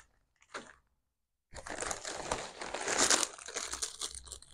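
Double-sided adhesive tape is handled close up: a brief crinkle, a pause, then a sustained crackling, rustling stretch of peeling and crumpling plastic, with no speech.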